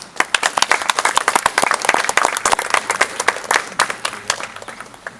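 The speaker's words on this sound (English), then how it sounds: "So to all of them, please, a very hearty round of applause." Hearty audience applause with dense, continuous clapping from a crowd, steady and fairly close for several seconds.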